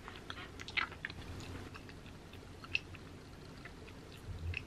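Chewing on an egg-shaped Snickers candy bar with caramel, a quiet close-up sequence of soft crunches and mouth sounds with a couple of sharper bites standing out.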